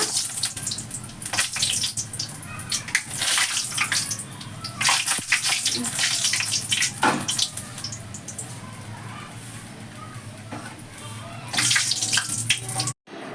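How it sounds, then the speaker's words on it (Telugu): Vadiyalu fry in oil poured into a still-wet pan, the oil spitting and crackling in loud, irregular sizzling bursts that swell and fade over about thirteen seconds. "ఇక్కడ బాండ్లీలో తడి ఉన్నట్టుంది అందుకే తడి మీదనే ఆయిల్ వేసేసినట్టున్నాను అందుకే అది కొంచెం చిట్లు పైన పడుతుంది"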